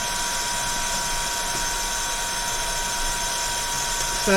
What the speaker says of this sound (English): I've just put my heat gun straight onto here without letting it warm up